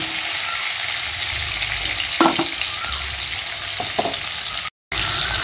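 Steady, dense sizzling of potatoes frying in a pan with salt and turmeric, with a couple of brief scraping stirs partway through and a momentary dropout near the end.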